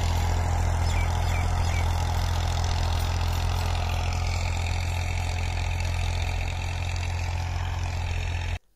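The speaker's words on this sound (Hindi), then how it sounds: "साथ जो ट्रैक्टर चल रहा है और साथ सुहागा और हल चल रहा है" A tractor pulls a plough and a leveller through a mustard field, its engine droning loud and steady with a low rumble for several seconds before cutting off abruptly at the end.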